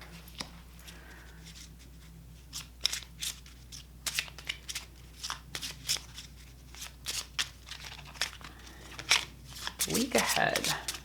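A deck of Lenormand cards being shuffled by hand, a series of quick papery riffles and slides coming in irregular bursts, close by, with a louder flurry near the end and a person talking intermittently over it.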